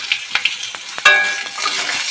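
Raw mango pieces fry in a pan for a Bengali lentil dish, with loud sizzling and sharp clicks of a spatula stirring at an uneven rhythm close up, with no talking.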